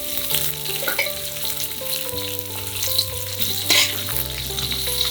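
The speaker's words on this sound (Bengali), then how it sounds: "তারপর এখন আমরা হালকা তেলে, সয়াবিন তেলে ভেজে নেব।" Shrimp fry in soybean oil with a loud, continuous sizzle and stirring, while a steady hum underneath shifts pitch a few times and no one speaks.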